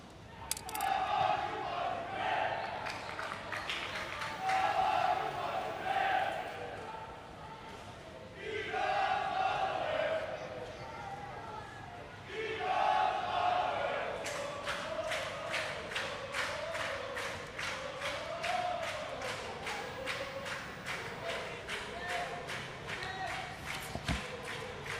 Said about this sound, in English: Fans are in good voice cheering their team on as we approach the final embers.